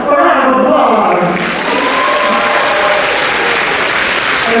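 Loud, continuous applause and cheering from a large crowd at SakuRUMBLE 2022, an anime sports entertainment battle show, holding steady for several seconds with some shouts mixed in.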